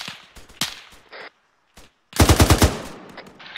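Machine gun fire in the military shooter Arma 3: a loud, rapid burst of about six close shots, preceded by a few scattered single cracks and faint radio-like noise.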